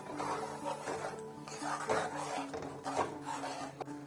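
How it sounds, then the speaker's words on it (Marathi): Thick gram flour (besan) batter being stirred and scraped in a pan over heat, a steady close rasping and rubbing with occasional clicks of the spoon against the metal, continuous for the whole stretch with no voices. "आता ह्या पिठाला चकाकी येईल तोपर्यंत हलवून घेऊ"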